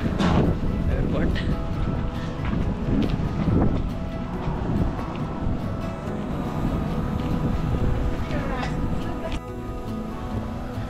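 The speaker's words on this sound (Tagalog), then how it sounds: "Lamig na hangin." Cold wind rushes across an open airport parking area, a continuous blustery rumble with buffeting on the microphone that runs under people talking throughout.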